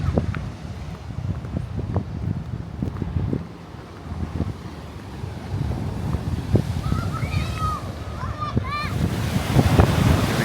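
Ocean waves surge and splash against an Atlantic City seawall the day after a hurricane, a steady roar with wind buffeting the microphone, while people talk and birds cry faintly nearby.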